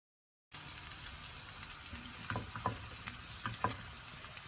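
After a brief silence, chicken breast pieces fry in a pan for a creamy mushroom stroganoff. A steady sizzle carries a few sharp clacks and scrapes from stirring and turning, and the whole is moderately quiet and close.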